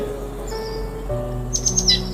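Baya weaver birds chirp in a short burst of bright, high calls near the end, heard over a steady low hum and faint background tones.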